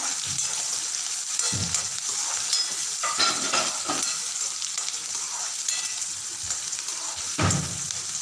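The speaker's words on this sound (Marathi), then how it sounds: "कांद्याला शिर परतून घ्या" Chopped onion sautéing in a pan for moong dal sabzi, a continuous close frying crackle with occasional louder stirring scrapes and knocks.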